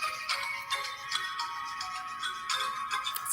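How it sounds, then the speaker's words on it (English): Children's electric toothbrush playing a song, a thin tinny electronic melody with bright chiming notes, continuous and fairly close, heard alone. "because this one isn't just a manual brush like our Giselle, she sings"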